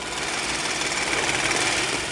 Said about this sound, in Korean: 그리고 엔진 소리